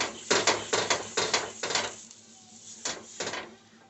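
An onion with oil is rubbed over a cast iron dosa pan in a run of rhythmic scraping strokes, close and clattery, a pause, then a few more strokes.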